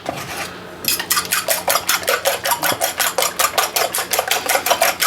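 Eggs being whisked in a bowl for a spinach, bacon and gouda omelette, a rapid, steady rhythm of metal clicks against the dish after a brief soft scrape, close and clear with no talking.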